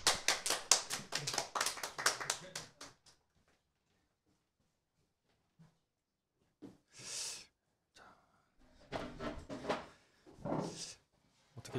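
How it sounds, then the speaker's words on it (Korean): A church congregation welcomes the pastor with a brief round of clapping, distinct quick hand claps that fade out to silence, followed by scattered knocks and a few spoken voices. "우리 김효성 목사님 우리 모실 때 우리 큰 박수 부탁드리겠습니다"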